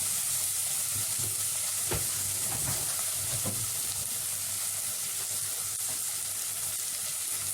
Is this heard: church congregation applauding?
no